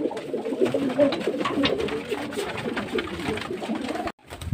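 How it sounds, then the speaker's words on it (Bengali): Several pigeons coo in a steady, overlapping murmur close by while pecking at rice given as cool summer feed, continuing without a break until a short silence near the end. "এই দেখুন, এই দেখুন ভাত খাচ্ছে পায়রা।"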